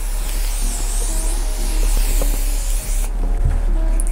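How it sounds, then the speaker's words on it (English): Continuous hissing bursts of Morphe Continuous Setting Mist Spray misted onto a face, loud and close, cutting off abruptly after about three seconds into quieter room sound. "Then I'm gonna set my face with my Morphe Continuous Setting Mist Spray."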